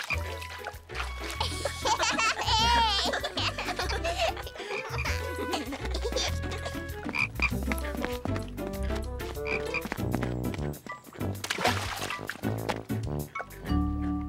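Frogs croaking at a pond in a French cartoon episode: repeated throaty croaks mixed with trickling water, heard over a busy, layered musical score with some voices.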